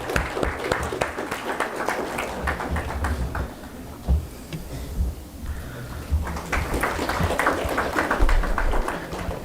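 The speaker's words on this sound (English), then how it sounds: "Big round of applause" Applause from the audience at a graduation day ceremony, a room of hands clapping in uneven bursts that dip briefly and then swell again, with some low thumps and shuffling underneath.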